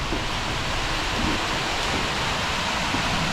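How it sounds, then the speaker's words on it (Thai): Rain falls steadily at a reservoir fishing raft, a dense, even hiss with no breaks, loud and close, with no voices over it. "ฝนแตะเลยครับ"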